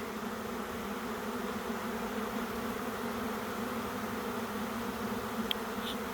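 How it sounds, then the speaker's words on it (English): A honey bee swarm moving into empty hive boxes on a hot summer day, a dense continuous buzzing drone that fills the air steadily, with no voices. "The air is just full of bees."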